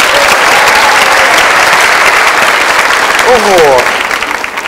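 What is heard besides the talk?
studio audience cheering and applauding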